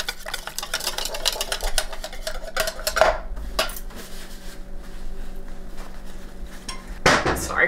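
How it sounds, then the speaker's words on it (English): A utensil stirs xanthan gum into protein flour in a bowl, with repeated scraping clinks against the bowl, a few sharper knocks, and brief talk near the end. "Stir it around."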